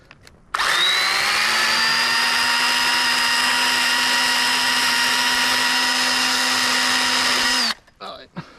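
An Echo 3006 electric pruning saw cuts a tree stub, its motor whining at a steady high pitch for about seven seconds before cutting off sharply, followed by a brief rattle of the chain.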